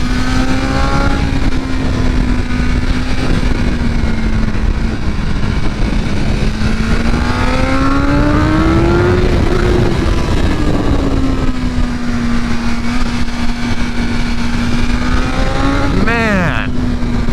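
A 2023 BMW M1000R motorcycle with a BT Moto ECU flash tune accelerates hard, its engine note rising and falling steadily through the gears, loud and close, with someone talking over it and a sharp rising whine near the end.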